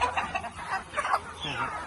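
Black Phu Phan chickens cluck softly while pecking at mixed morning layer and grower feed outdoors. Their short, scattered clucks overlap at a low, steady level.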